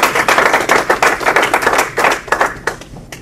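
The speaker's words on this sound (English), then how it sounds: "how about another round of applause for everybody that came up here tonight?" Audience applause at a live comedy show, a dense burst of many hands clapping close and loud, thinning out and fading toward the end.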